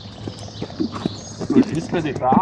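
A horse gallops at a show jumping obstacle, its rhythmic hoofbeats close and steady beneath someone talking throughout.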